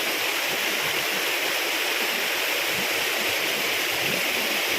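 Steady, dense rush of falling water, a constant broadband roar with no pauses and no voices.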